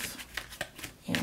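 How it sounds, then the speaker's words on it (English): Tarot cards are shuffled by hand in a few quick, crisp riffling bursts, close and fairly loud, with brief pauses between them. "I'll just finish shuffling."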